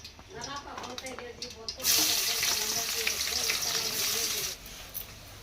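Sliced onions drop into hot oil with cardamom, cloves and peppercorns, and a loud, steady sizzle surges up after a quieter stretch before easing near the end, while a voice talks over it.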